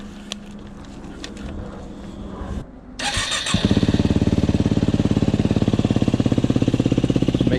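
A Yamaha WR250R motorcycle cranks over and fires up, then settles into a loud, close, steady idle with a rapid, even thumping pulse.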